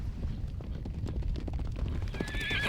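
Wild horses in the desert, including stallions, with a steady patter of hooves clopping on the ground and a loud, shrill whinny breaking out near the end.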